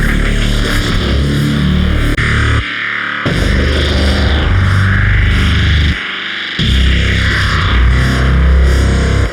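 A loud electronic synth with heavy saturation distortion plays dense, gritty sustained tones in three long phrases separated by short gaps.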